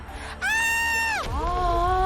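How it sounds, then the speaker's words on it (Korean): A frightened woman screams during a hostage standoff with a gunman, letting out a loud, close, piercing shriek that holds high and then drops away, followed by a second, lower wailing cry. "여자의 비명소리가 들려."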